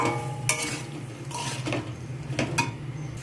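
Jackfruit with spices being stirred and sautéed in a pan for a prawn dish: close scraping and clinks of a utensil against the pan in several bursts over a low, steady background hiss, with no talking.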